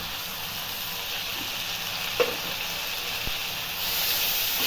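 Chopped tomatoes going into a hot pan of simmering vangi bath gojju, a soft continuous hiss and sizzle with one brief splash-like bump, no voices.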